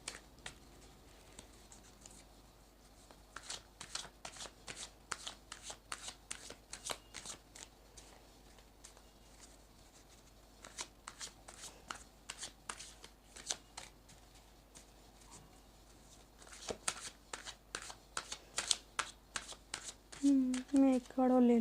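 Tarot cards are shuffled close by in quick riffling bursts and soft slaps, starting and stopping at intervals, faint and crisp, with someone speaking intermittently.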